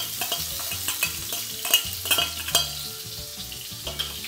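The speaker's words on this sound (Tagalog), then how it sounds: "dito tayo magigisa ng bawang, sibuyas." Garlic and onion sauté in a pan for a Filipino cabbage and potato omelette, with a steady close sizzle under frequent stirring scrapes and knocks of a utensil, no talking.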